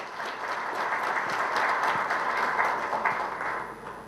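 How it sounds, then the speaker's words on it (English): Audience applause at a memento presentation during the GMCV 2020 fifth edition event, a steady, dense wash of clapping that holds for about four seconds and then begins to taper. "A huge round of applause, please."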